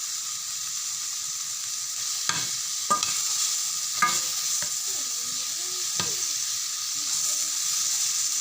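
Tomatoes sauté in a pan while a Tamil-style sardine fish curry is made, giving a steady close sizzle with a few sharp scrapes and clinks of a stirring spoon against the pan.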